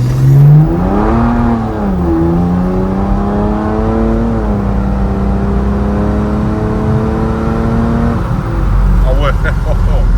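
A tuned 530 hp car with twin turbos pulls hard, its engine revving up in long rising sweeps and shifting through gears, loud and close from inside the cabin, with excited voices exclaiming over it.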